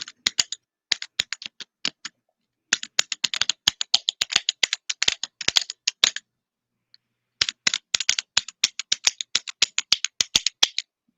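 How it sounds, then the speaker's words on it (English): A mechanical keyboard with linear switches typed in three quick bursts of light, close, even keystrokes, separated by short silent pauses. "We play us out with some linear clicking, barely clicking."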